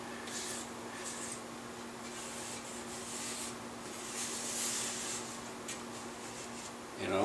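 A hand rubs a tacky finish coat on a wooden gunstock with soft, quiet, repeated swishing strokes under a faint steady background hum.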